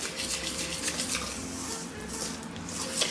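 Cornbread batter with vegetable oil being mixed in a bowl, a continuous soft, wet swishing and scraping heard up close and fairly quiet, with no voices.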